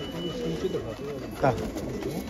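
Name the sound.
pigeon cooing in a loft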